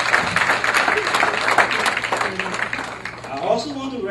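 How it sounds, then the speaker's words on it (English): Audience applause at a community center building dedication, a crowd clapping steadily with a voice speaking over it, the clapping thinning slightly toward the end. "You can give yourself a clap as well."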